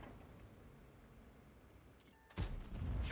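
Tank cannon fire in the World of Tanks video game: a sudden loud, close blast lands near the end, breaking a steady low ambient rumble and leaving a heavy roar behind it.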